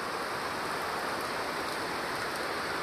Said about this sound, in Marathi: किती पाऊस आहे यो